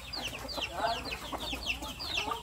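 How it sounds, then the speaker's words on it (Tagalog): A fighting rooster clucking nearby, short repeated clucks and chirps in quick succession over light outdoor background noise. "Pati manok na pangsabong."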